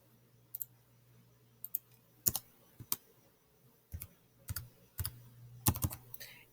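Keys are tapped on a computer keyboard while a calculation is entered into an online graphing calculator, sparse irregular clicks close by with short pauses between them and no talk.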